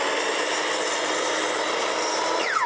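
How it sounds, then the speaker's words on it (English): A power saw cuts through a cedar deck board during deck installation, giving a steady, loud, continuous whine and rasp at close range with no talking. "So here we go, I'm going to cut the board."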